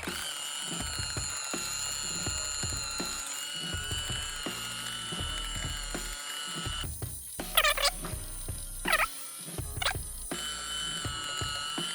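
A Holga 135AC film camera's small motor rewinds the film with a steady, slow whirring and faint ratcheting, close up, with a few brief squeaky pulses partway through and no talking.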